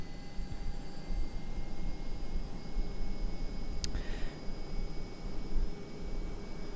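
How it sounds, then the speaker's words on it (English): Boeing 757-200 engines in the FSX flight simulator, a steady broadband jet roar holding at takeoff thrust with faint tonal whines and a brief click partway through, no voices. "go ahead and increase throttle to full. There's toga set."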